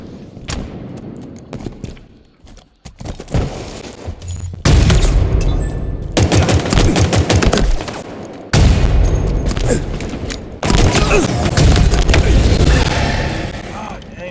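Rapid bursts of gunfire and booming explosions in the video game Halo Infinite, loud and dense, coming in several long volleys separated by brief lulls, with game announcer voice lines mixed in.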